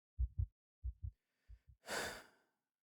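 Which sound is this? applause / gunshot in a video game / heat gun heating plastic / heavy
heavy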